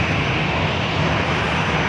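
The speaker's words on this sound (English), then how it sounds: "That was Delta Airlines flight 2533 coming from Seattle, 737-800" A Delta Airlines Boeing 737-800 jet, inbound from Seattle, roars steadily at San Diego airport, a loud, continuous broadband engine rush with no talk over it.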